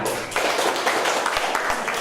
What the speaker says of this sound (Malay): Okey, bagus bagi tepukan.